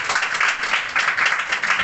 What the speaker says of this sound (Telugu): చప్పట్లు కూడా ఆహ్వానించడం